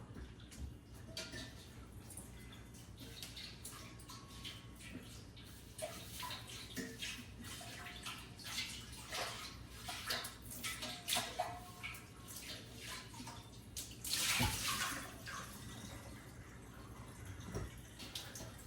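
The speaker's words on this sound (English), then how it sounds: "rinse this with some cold water." Cold tap water runs into and over a pan being rinsed, a soft continuous splashing that shifts as the pan moves, with a brief louder gush partway through; quiet overall.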